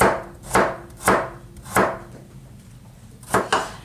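A knife chops vegetables on a cutting board with diagonal cuts, six crisp, evenly spaced strikes close up with short pauses between them and no talking.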